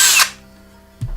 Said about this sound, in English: I think I'm just doing it with the cordless drill rather than the lathe